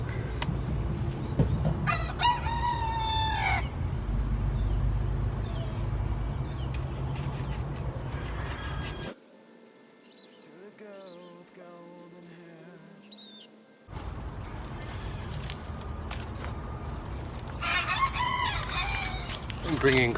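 Roosters crow several times outdoors in a garden during fig tree pruning and propagation, with loud crows early, in the middle and near the end over a background of rustling and handling noise.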